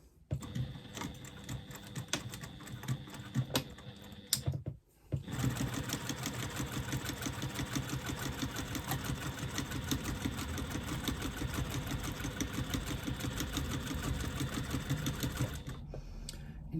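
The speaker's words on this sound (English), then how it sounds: "I'm now going to stitch along the bottom edge. Again, 3/8 of an inch seam allowance." A sewing machine runs a steady, continuous seam along the bottom edge of a bag lining for a retro clutch, with a 3/8 inch seam allowance. A brief stop breaks the whirring partway through before stitching resumes close and even.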